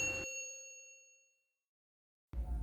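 A single bright notification bell ding rings out clearly and fades away over about a second, then silence before a voice begins at the end.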